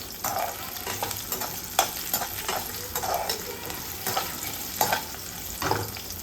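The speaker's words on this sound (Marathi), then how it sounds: "आणि आता हे बटाटे तुपावरती भाजून घ्यायचे" Potatoes roast in hot ghee in a pan, giving a continuous sizzle broken by repeated scraping stirs at a moderate, even pace, close up.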